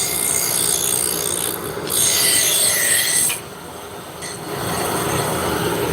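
An oversized wooden dowel turns on a lathe as a tool removes material, making a loud, continuous rasping scrape that surges and eases in waves and drops off briefly midway, with no speech.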